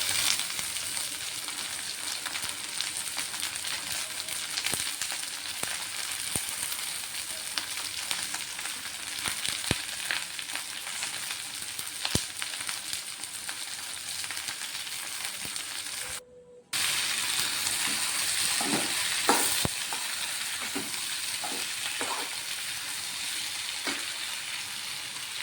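Ivy gourd sizzles steadily as it stir-fries in a pan, a continuous frying hiss with occasional scraping stirs, broken by a brief silence before the sizzle resumes with a few louder clanks.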